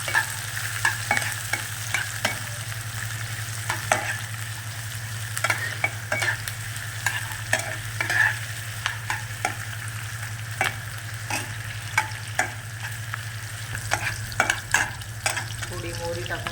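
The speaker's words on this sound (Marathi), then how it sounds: "छान कांदा परतू द्यायचा, बारीक कापून घेतलेला आहे मी" Finely chopped onion sautés in a pan, a steady close sizzle with frequent scraping stirs and small clicks running throughout, no one speaking.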